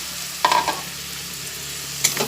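Fish heads hit hot spiced oil in a pan for a short, steady sizzle with a couple of sharper crackling bursts, close and alone with no talk.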